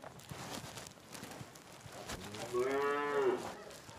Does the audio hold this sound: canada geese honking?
no